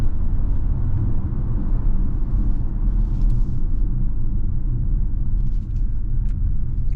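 A 2024 Hyundai Tucson Limited AWD drives down the road, heard as a loud, steady low rumble of road and engine noise from inside the cabin, with no talking.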